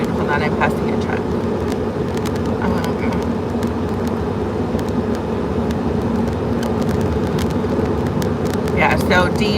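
Road and engine noise inside a vehicle passing a truck on the highway, a steady rumbling roar with wind noise, heard under close conversational talk.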